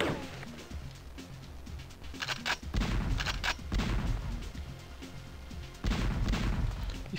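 Gunfire from the video game Crusader: No Remorse, heard as clusters of sharp, booming shots in two main bursts over a rumbling game background.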